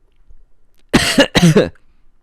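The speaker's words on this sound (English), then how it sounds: "Please stop coughing in my direction" Two harsh coughs in quick succession, loud and close, surrounded by near silence.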